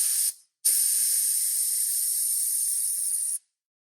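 Compressed air at 100 psi blows through a homemade sandblast gun in a Harbor Freight cabinet as a loud, steady hiss. A short burst cuts off, then a longer continuous blast runs about three seconds and stops abruptly.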